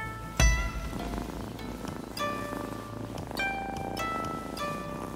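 Cat purring in the video game Rise of the Ronin, a steady low rumble under soft in-game music with bright chiming notes, one short louder thump near the start.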